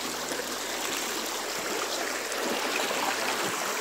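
Steady rushing of a flowing stream, continuous broadband water noise with no talking, close and even throughout.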